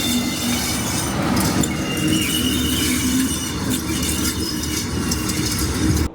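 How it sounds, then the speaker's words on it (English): British Rail Class 47 and Class 45 diesel locomotives depart Chester station, a loud, continuous rumble of engines and rolling stock with wheel squeal and rail clatter sustained over several seconds. "So the Class 47 and the Class 45 did depart Chester on time."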